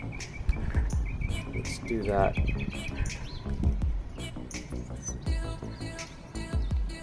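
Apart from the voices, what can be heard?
birds chirping in a backyard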